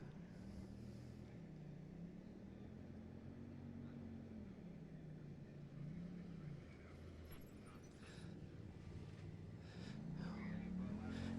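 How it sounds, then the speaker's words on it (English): A distant Ultra4 off-road race truck engine drones, rising and falling in pitch as it revs far off in the woods, faint against steady outdoor background noise. "I hear some more exhaust out in the woods."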